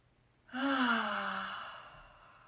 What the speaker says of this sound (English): please take a deep breath with me right now